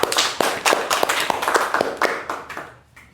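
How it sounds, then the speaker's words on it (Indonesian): A classroom group claps for the first presenting group, giving a few seconds of loose, uneven applause that thins out and fades at the end. "mungkin kita berikan aplaus untuk kelompok 1"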